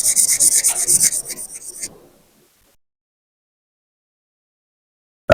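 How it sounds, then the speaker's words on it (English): Fine abrasive rubs back and forth over soldered photo-etch scale model parts in rapid, close strokes, about a dozen rhythmic rasps lasting two seconds, followed by silence. "And then using the finest one to give it a buffing."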